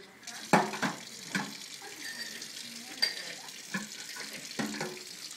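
A child washes a cup under a running kitchen tap, with soft water flow and several clinks and knocks of the cup against the sink, quiet and close.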